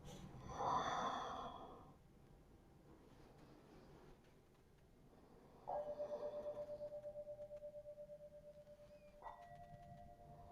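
A slow, audible out-breath during a yin yoga pose, soft and close, followed by quiet stillness and a faint lingering tone.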